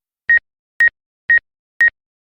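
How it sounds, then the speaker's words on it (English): An Exo Blackhawk 3 drone sounds its obstacle-avoidance warning near a cattle trailer: four short, identical electronic beeps evenly spaced about half a second apart, clear and alone. "Hear it beeping fast?"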